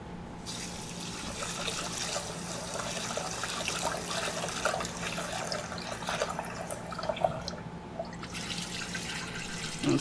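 Running tap water splashing steadily into a bowl as sushi rice is rinsed, a continuous close wash of water with small sloshes and drips throughout.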